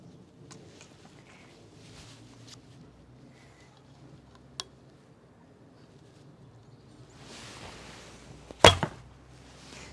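Lighter arrows are loosed from a Simsek Sipahi short bow at close range, leaving a faint quiet stretch before a sharp snap of release and a quick whoosh followed by a crisp impact.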